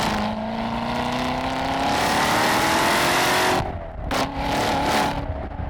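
The 2015 Chevrolet Corvette Z06 engine roars loudly under hard acceleration while driving, a sustained rising drone with rising pitch, then a brief throttle lift and a quick re-surge, heard up close without talk.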